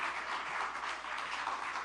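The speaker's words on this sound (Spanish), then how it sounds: "Ese aplauso no es para mí, es para el Señor." Congregation applauding during a church sermon, a steady wash of many hands clapping at moderate, even level throughout with no voices over it.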